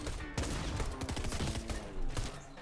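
Rapid gunfire from guards in Fortnite, a steady stream of close, sharp shots in quick succession running throughout, moderately loud with a few heavier bursts.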